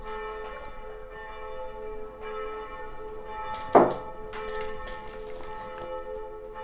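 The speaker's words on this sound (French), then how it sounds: "Là, on a les cloches en arrière-plan" Church bells ring steadily in the distance, their sustained tones layered and continuous, with one louder clang partway through and faint room sounds beneath.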